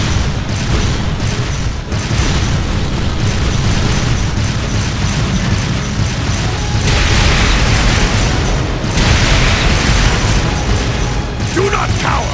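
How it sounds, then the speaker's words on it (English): Artillery barrage explosions in Trails of Cold Steel 2, a loud, sustained rumble of booms and mechanical battle noise with heavier blasts swelling midway, and game voices mixed in. "Fire a barrage to cover your retreat!"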